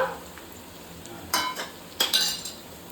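Onions and spices sautéing for attukal paya biryani, with a faint steady sizzle broken by a few sharp spoon scrapes and clinks against the pan near the end.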